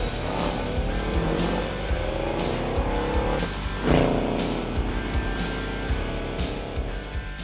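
A 2021 Ford Mustang Mach 1 with a big V8 and manual gearbox driving, its engine droning loudly and steadily with a surge of revving midway and tire noise underneath.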